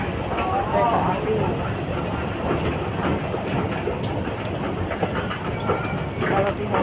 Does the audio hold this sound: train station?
yes